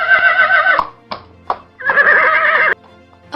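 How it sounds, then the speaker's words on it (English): A horse whinnies in two loud, drawn-out calls separated by a short gap and a couple of faint knocks, heard close and alone. "A horse."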